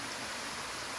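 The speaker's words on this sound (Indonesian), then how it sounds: "kita akan turun dan pulang karena udah hujan lebat" Heavy rain pours down in a durian forest, a dense, steady hiss of downpour close by with no pauses and no talking.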